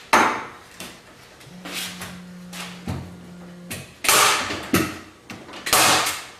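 Window wrap is stapled in place around a window frame, a series of sharp close staple-gun thwacks and clacks at irregular intervals, with rustling material and a brief low hum between them.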